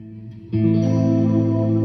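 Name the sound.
guitar through reverb amp patch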